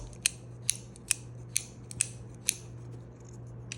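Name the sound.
Olight Oknife U1 axis lock knife blade opening and closing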